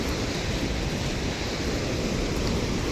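The swollen Beas river surges through Manali in a flash flood, a loud, steady broadband roar of rushing water that never lets up.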